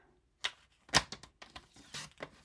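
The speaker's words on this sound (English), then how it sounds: "I'm just going to come in with my trimmer again. So just cut the white off" A paper trimmer slices white off card stock in a few sharp clicks and scraping strokes, close and crisp with brief gaps between them.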